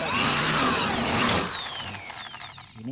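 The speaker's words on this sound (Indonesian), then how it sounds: "Lalu kita bor pakai menggunakan mata obeng ini ya guys. Lalu kita putar" A power drill fitted with a screwdriver bit backs a bolt out of a lightweight steel fence frame: a loud whirring spin for about a second and a half, then a fading wind-down with some clicks.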